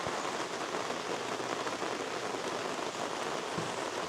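Rain falls outdoors as a dense, steady hiss of drops on surfaces, constant and fairly loud throughout with no voices.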